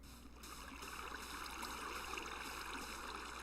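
A natural waterfall flows in the Minecraft video game, a soft, steady rushing wash of water that stays even and fairly faint throughout.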